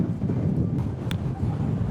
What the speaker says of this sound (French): Oh le vent de ouf les gars, c'est incroyable!